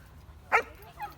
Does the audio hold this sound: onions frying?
no